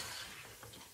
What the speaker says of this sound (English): Now I'm going to add a little bit of water from my kettle.